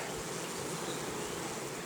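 Dense, steady buzzing of many honey bees inside a hive, hanging clustered at the bottom of the frames, a continuous close hum with no pauses and no voices.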